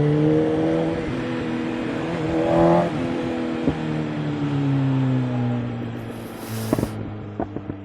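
A BMW M1000XR motorcycle engine revs and climbs through the gears while riding, its tone rising and falling in long pulls under steady wind roar, with a few sharp clicks near the end.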